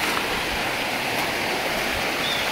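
A flowing river, probably the Rio Bravo, outdoors: a steady broadband rush of moving water that stays unbroken and fairly loud throughout, with no voices over it.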